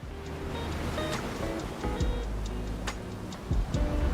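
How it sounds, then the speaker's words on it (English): Ocean waves wash steadily through a video game world, a continuous surf texture with faint rhythmic ticking on top and no talking. "the waves sound so like they match the world"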